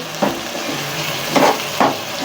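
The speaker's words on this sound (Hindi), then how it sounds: "इसकी भुनाई करनी है। 5 मिनट कीमे की।" Keema with masala stir-fried over high heat in a pan: a steady, close sizzle broken by three scraping stirring strokes, with no talking.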